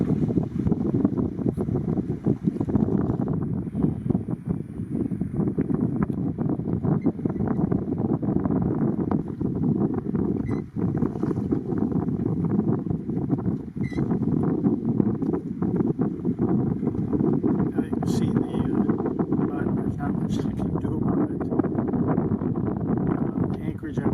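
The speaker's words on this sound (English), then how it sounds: "The wind will calm down and make it a little easier to live with later on." Strong wind gusts over frozen Lake Nipigon, a loud, steady low roar and rumble of wind buffeting the microphone that continues for the whole stretch.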